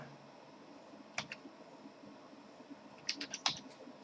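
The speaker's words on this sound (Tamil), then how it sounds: "இப்போ என்னுடைய ஓடிபி நம்பர் நான் இங்கே பண்ணுறேன் டைப் பண்ணுறேன்" Someone types an OTP number on a computer keyboard while downloading an Aadhaar card online: a couple of soft key clicks, then a short quick cluster of taps, faint and close, with no talking.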